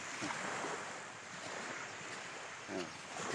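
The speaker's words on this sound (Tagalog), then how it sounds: "Ayan guys, ito ay dagat." Surf washing steadily near the shore at Laiya beach, Batangas, with broad wind noise, a couple of wave swells rising briefly, no voices.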